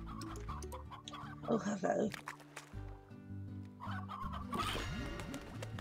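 Chickens cluck and squawk in the video game Slime Rancher, several bursts of fowl calls mixed with game music and effects while a player talks over them.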